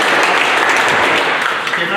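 Children clapping together in a coaching classroom, a brief burst of dense, loud applause that fades slightly toward the end.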